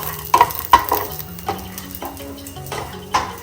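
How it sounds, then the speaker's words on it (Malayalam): Peanuts fry in a pan with shallots and garlic for peanut chutney. A spatula scrapes and clacks against the pan in irregular strokes over a steady low sizzle. "ലാസ്റ്റ് പീനട്ട് ഫ്രൈ ആയി വരുമ്പോൾ ചുവന്നുള്ളി, വെള്ളുള്ളി അതും കൂടി ഇട്ടിട്ട് ഒന്ന് വാട്ടും"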